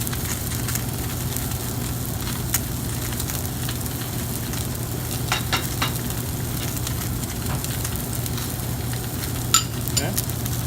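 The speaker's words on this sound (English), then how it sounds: "while this is searing, we are going to sear both sides." Salmon sears in a hot pan with a steady, continuous sizzle and crackle, punctuated by a few brief utensil clinks near the end, with no talking.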